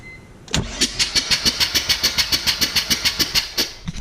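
A Mazda RX-7 FD rotary engine cranks over with a rapid, even train of starter pulses after the intercooler refit and fresh plugs, loud and close, with no break between the beats and no speech.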